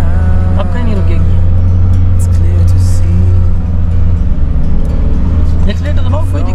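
A Suzuki Jimny engine drones steadily under acceleration while driving off-road through desert sand, the low engine note continuous and loud throughout, with occasional voices talking over it.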